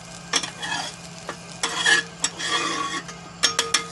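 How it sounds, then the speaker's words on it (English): Metal spatula scraping across a Weber Q griddle during cleanup, a series of short, close, gritty scrapes with brief pauses between strokes, no voices. "Just scrape it off like that."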